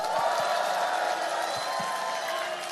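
Outdoor campaign rally crowd cheering and applauding, a continuous broad roar of many voices with scattered claps, loud and sustained throughout.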